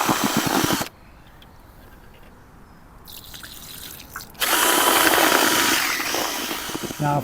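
Mini drill fitted with a whisk spinning through groundbait mix for bream fishing, a loud steady whirring burst at the start, a quieter stretch, then a longer run of loud whirring.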